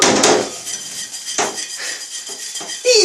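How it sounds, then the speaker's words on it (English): Dishes washed by hand with a scrubber: clattering knocks of crockery and cutlery, a loud clank at the start and again at the end, with scraping and rattling in between. "I'll wash your dishes for you."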